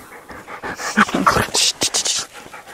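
Two dogs approach, panting in quick, close breathy rhythms with a faint whimper, as people speak over them.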